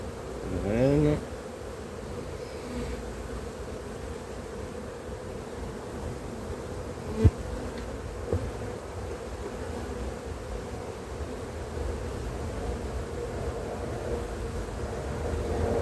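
Honeybees hum with a steady, dense buzz around an open hive during brood inspection, close and continuous with a few brief clicks and knocks.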